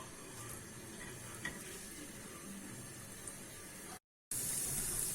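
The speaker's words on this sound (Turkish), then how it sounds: "Yağımız ısındıktan sonra içerisine iki diş sarımsak ekliyorum. Ve bir iki tur çeviriyorum." Two garlic cloves sizzling in hot oil for a wet hamburger sauce, a faint, steady frying hiss with light stirring and a brief dropout near the end.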